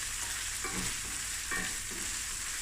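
Tomatoes fry in a pan for a Cape Malay polony and sausage dish, giving a steady low sizzle while a spoon stirs through them in a few soft scraping strokes, close and without talking.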